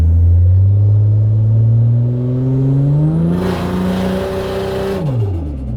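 Barra-powered Holden engine held against the transbrake in gear, revving loud and steady with a rising whine as boost builds, then dropping off sharply near the end; no talking.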